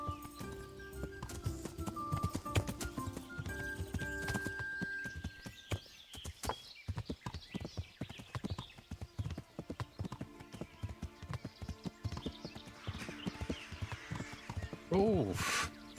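Horse hooves clip-clop at a steady riding gait in the medieval game Kingdom Come: Deliverance, a continuous close rhythm of hoofbeats with a brief whinny near the end, while someone talks over it.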